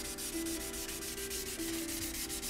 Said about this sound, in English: I'm just going to run the sandpaper up over it.